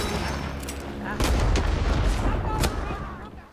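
An M1 Garand rifle is fired in the Vietnam War video game Rising Storm 2, with loud booming shots over a dense battle din and a couple of heavy reports standing out.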